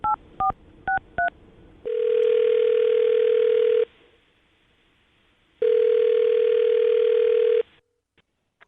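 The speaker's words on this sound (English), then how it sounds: "I'm going to dial her number right now" A telephone call being placed: a few quick touch-tone dialing beeps, then two long steady ringback tones with a pause of near silence between them, clean and close.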